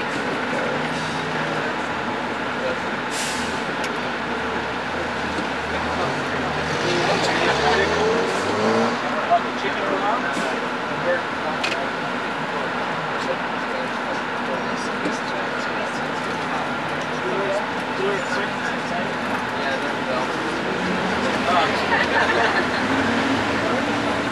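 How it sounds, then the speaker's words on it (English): Congested road traffic in Paris in 1989 rumbles continuously from inside a vehicle, with engine drone, passing cars and scattered honks, while people talk over it. "This is traffic."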